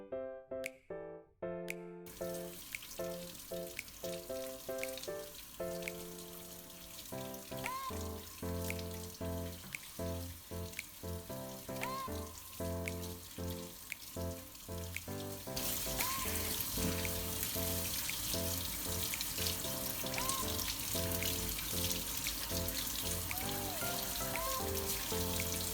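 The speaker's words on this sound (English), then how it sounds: "we're gonna get 2 medium-sized potatoes, and then we're just gonna wash them" Two medium potatoes are rinsed under a running kitchen tap, with steady splashing water and intermittent thuds and clunks as they are handled, growing louder and more continuous toward the end.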